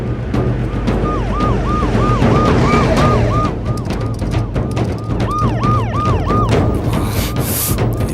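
Police car siren wailing in repeated rising and falling sweeps, fairly loud and steady, over a dense background of traffic rumble and thumps, with no clear talk.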